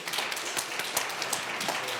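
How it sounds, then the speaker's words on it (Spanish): Audience applause for an ambassador at a European friendship event, a busy continuous patter of many hands clapping at moderate distance, with no speech during it. "Vamos a dar un aplauso al embajador"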